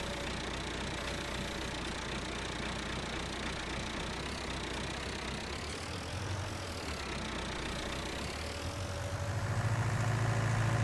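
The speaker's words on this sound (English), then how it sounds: "And it is a nice wee tractor as well." A small low-horsepower tractor in Farming Simulator 19 idles with a steady droning engine hum, rising louder and deeper near the end as it revs.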